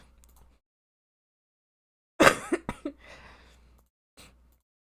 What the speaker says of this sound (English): Sorry, I didn't mean to cough so hard.